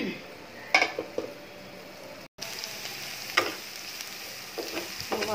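Chopped onion and garlic sizzle in hot oil in a home kitchen pan, a steady soft frying hiss broken by a few clinks of a spoon or utensil stirring against the pan.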